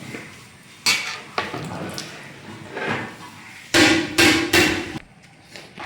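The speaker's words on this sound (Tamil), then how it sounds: "மறுபடியும் ரெண்டாவது நல்லா கிண்டி விடுறேன்" Beef biryani rice being stirred in a pot, with scraping and clanking of a metal spoon against the vessel, a few loud bursts including a cluster of strikes near the end, heard alone.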